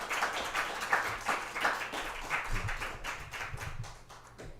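Audience applause and clapping in a live show setting, a steady dense patter of many hands at moderate volume lasting throughout with no talk over it.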